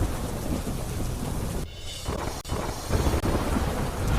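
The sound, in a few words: heavy rain and thunder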